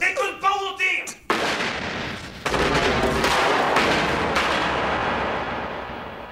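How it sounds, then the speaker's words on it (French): Gunfire erupts in a Reservoir Dogs heist-standoff film scene, a loud sudden burst after brief shouting, followed by sustained dense crackling shots and reverberant noise that slowly fades. "Il tire et lui il se fait shooter."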